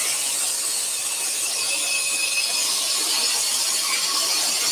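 A scroll saw cutting timber for a wooden lantern, with dust extraction running: a steady, even, hissing buzz held at constant loudness throughout, with no talk.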